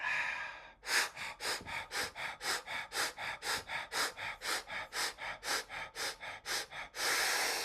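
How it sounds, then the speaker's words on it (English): Rapid rhythmic fire breaths from a guided energy-healing meditation, about twenty sharp, even nasal exhales in quick succession, bracketed by longer sustained breaths at the start and end, close and fairly quiet with no talking. "Fire breathe again."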